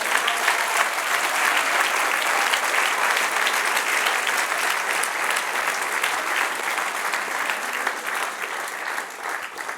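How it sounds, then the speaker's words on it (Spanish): A church congregation applauds together during a Sunday sermon, dense sustained clapping filling the room evenly from start to finish, loud and unbroken, with no voices rising above it. "Dale un aplauso al Señor."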